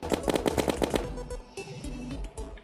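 Rapid machine-gun fire from an enemy in the video game Terraria, a quick string of evenly spaced shots up front, followed by scattered game effects and thuds.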